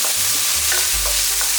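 Green pepper and tomato sizzle in a hot oiled wok as a spatula scrapes and tosses them a couple of times, a steady close frying hiss with soft stirring knocks.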